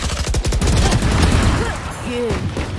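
Rapid bursts of automatic gunfire in a shooter video game, loud and continuous at first, then thinning into scattered shots with game sound effects and a faint voice underneath.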